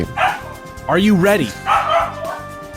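A dog lets out a few yipping barks and whimpers, close and fairly loud, mixed with people talking at an indoor game show.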